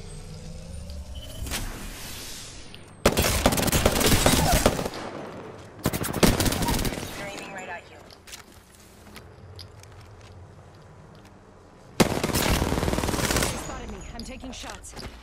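Bursts of gunfire in Apex Legends aimed at the character Wraith come in loud separate volleys, each lasting a second or two, split by quieter stretches of game ambience.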